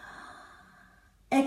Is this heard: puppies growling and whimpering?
no